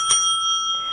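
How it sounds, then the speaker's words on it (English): A bell strikes once at a U.S. Senate debate to mark that a speaker's time is up, a clear metallic ding ringing on with a sustained tone in a quiet room. "a bell will sound when your time is up"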